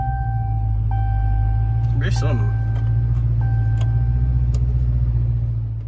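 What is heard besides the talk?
Dodge Challenger car engine starting and idling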